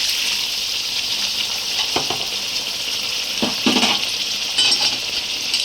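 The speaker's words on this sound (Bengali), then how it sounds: "এবার ভালো করে কষিয়ে নেব।" Chicken and potatoes sauté in a spiced masala in a pan, sizzling steadily and loudly, with a few scraping stirs of a spatula against the metal.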